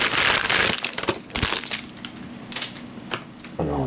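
Recyclable paper packaging for an anime DVD is torn open by hand, with close crinkling rips and crunching tears in quick irregular bursts, then a brief scrape at the end.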